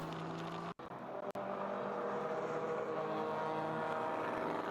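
Race cars at the TireRack.com ChampCar Endurance Series Daytona 14-hour race, with engines roaring as a steady, loud, continuous drone that briefly cuts out twice near the start.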